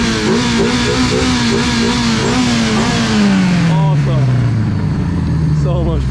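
A Lada car's engine revs hard while drifting on ice, a loud, close, sustained roar that climbs and then falls in pitch as the revs drop, with no talk over it.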